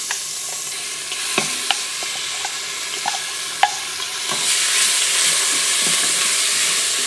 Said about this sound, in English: we're gonna add our shallots and garlic at this time